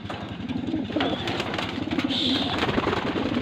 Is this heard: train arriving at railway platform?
no